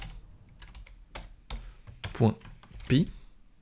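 Someone types JavaScript code on a computer keyboard, irregular clusters of clicky keystrokes with a few louder taps, heard close, with a voice talking intermittently over the typing.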